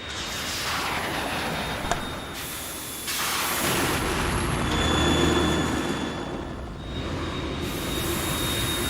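Harrier jet from the video game Metal Gear Solid 2, a steady loud roaring engine wash with a thin high whine, swelling slightly midway and holding throughout without talk.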